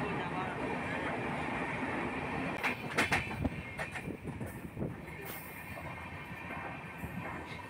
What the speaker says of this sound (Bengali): ট্রেনের মধ্যে যাচ্ছি